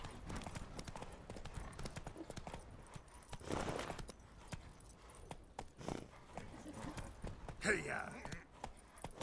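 Horse hooves clip-clop in an uneven rhythm over rough ground in the video game The Witcher 3, mixed with brief shouts and scattered clatter, louder bursts near the end.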